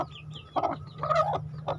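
A brooding kampung hen sitting on eggs gives short, low clucking grunts in a few bursts, close by over a steady background hum.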